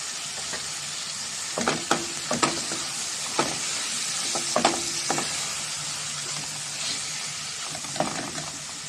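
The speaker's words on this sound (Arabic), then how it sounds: "انا قلبت بقى كام تقليبه كده اهو" A spiced shrimp mixture sizzles steadily in a frying pan, broken by several sharp scrapes and clinks as a spoon stirs it up close.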